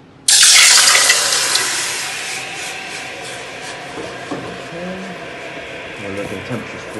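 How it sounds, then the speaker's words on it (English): A kilogram of water dumped into a 10 kW thermal storage unit in Kathmandu makes a sudden loud rushing splash that starts abruptly, then settles into a steady hiss and sizzle, with a voice speaking faintly near the end. "And we take our 1 kilogram of water and we dump it in."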